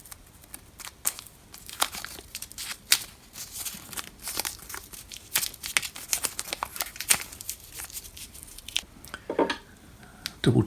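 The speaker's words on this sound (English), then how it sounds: "just put some masking tape on it" Masking tape is pulled off the roll and wrapped around a 90-degree elbow on a drill press, close crinkly tearing and crackling bursts in an irregular rhythm, with a louder rip near the end.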